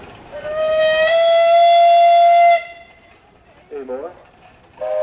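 A 1922 Russell steam traction engine at a pioneer-days steam show sounds its steam whistle in one long, loud, steady blast of about two seconds, followed by quieter gaps and brief voices calling out.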